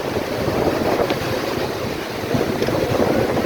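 Ocean waves breaking along the shoreline at Fort Myers Beach, Florida, as the tide comes in, a steady broadband wash of surf mixed with wind rumbling on the microphone, with no voices.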